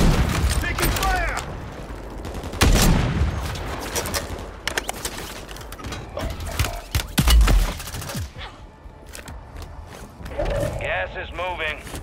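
Sharp bursts of gunfire in Call of Duty Warzone, a series of crisp cracks and rapid volleys scattered across the scene, mixed with voices talking and radio chatter.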